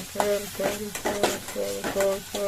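Turmeric being stirred into a sizzling poha tempering, with about six brisk scraping strokes of a spoon across the pan in a steady rhythm over a soft frying hiss, close up and without talk.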